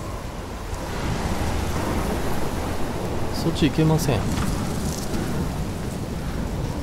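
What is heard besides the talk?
thunderstorm with rain in video game Life is Strange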